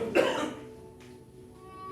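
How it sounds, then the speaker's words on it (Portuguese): A single sharp cough close to the microphone from an allergy, followed by quiet room tone. "Eu estou tossindo, mas não é Covid não,"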